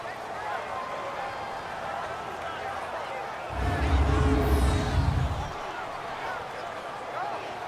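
A football stadium crowd roars up in a loud, broad swell for about two seconds before a big third down, then falls back to a murmuring background.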